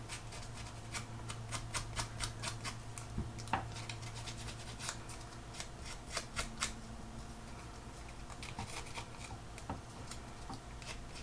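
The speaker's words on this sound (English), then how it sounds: "Can be a little more aggressive with the scissors because this is thicker card." Repeated crisp snips of scissors cutting through thick card, irregular in rhythm, close by with a low hum underneath and no talking.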